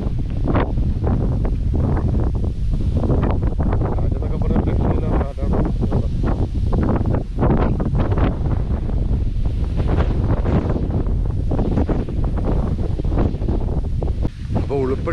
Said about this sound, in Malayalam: ഇവിടെ ഫുള്ള് ഇപ്പോൾ വന്നു കഴിഞ്ഞാൽ ഇവിടെ കാറ്റാണ് ഫുള്ള് കേട്ടോ